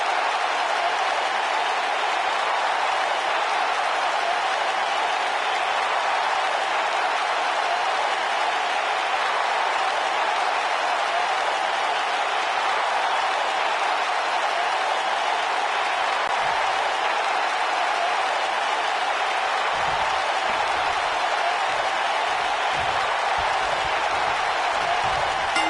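A stadium crowd roars and applauds continuously in WWE 2K19 at a SummerSlam pay-per-view, a dense, steady wash of cheering that holds from start to finish with no clear voices on top.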